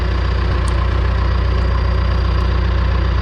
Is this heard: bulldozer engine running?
yes